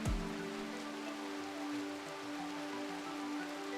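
Rain in the video game RimWorld, a steady soft hiss of rainfall on surfaces with a faint low hum underneath, continuous and quiet.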